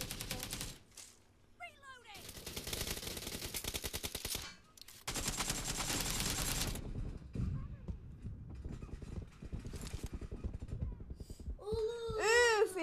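Rapid bursts of automatic gunfire from a shooting video game, loud and dense across long stretches, broken by short gaps, with chattering voices and a whooping, wailing cry near the end.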